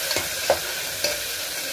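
Curry leaves, onion and capsicum fry in oil for chicken pulao while being stirred, producing a close, steady sizzle punctuated by a few quick scraping strokes.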